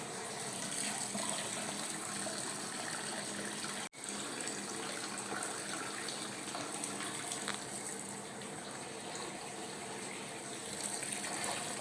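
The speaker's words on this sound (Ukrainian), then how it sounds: "промиваю гарячою водою, яка йде з цього танку." Steady rushing hot water at 77°C runs continuously from a tank during beer brewing, like a tap pouring into a vessel, with a brief dropout partway through.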